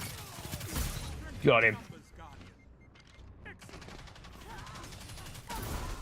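Gunfire from a quickly emptying weapon in Destiny 2, bursts of shots mixed with game effects, heard under a player talking.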